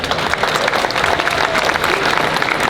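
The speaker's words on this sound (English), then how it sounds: "We'll get a big round of applause for Jack Ultra." An audience at a car show claps in a brief, dense burst of applause, steady and fairly close throughout.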